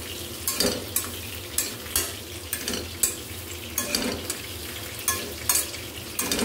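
Ground dried tuna (maasi) sautés in oil under a dense, continuous sizzle. A spatula scrapes and clanks against the pan in a steady, repeating stirring rhythm.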